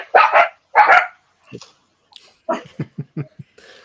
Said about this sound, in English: See, the dog agrees.